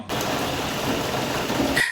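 Steady rain pours down in a dense, continuous hiss that stays even and close for nearly the whole stretch, then cuts off abruptly at the end.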